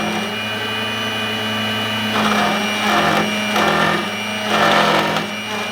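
A key cutting machine grinds a B119 transponder key, its steady motor whine running throughout and swelling in several louder passes as the cutter bites into the blade, heard close with no talking.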